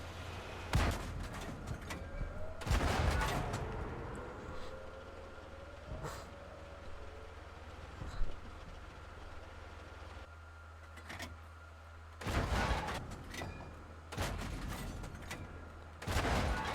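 Tank cannon fire in World of Tanks, with several heavy booming shots spaced irregularly over a steady low engine rumble, each blast loud and close with a short decaying tail.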